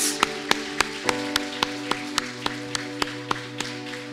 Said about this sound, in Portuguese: Com toda a sua força, querido, começa a aplaudir o Senhor.